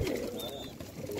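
Sialkoti pigeons give a brief, soft, close-up coo.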